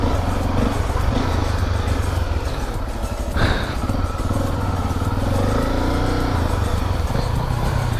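Two motorcycles, a Honda XRE 300 and a Yamaha Twister 250, launch side by side in a street drag race. Their engines roar loud and steady with rising revs and a sharp burst midway.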